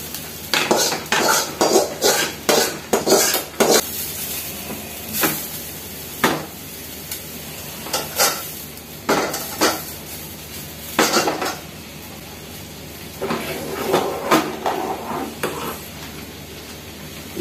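Browned onion tempering goes into a pot of moong dal with drumstick leaves. A ladle and pot clink and clatter in quick bursts over a faint sizzle, close by and without talk.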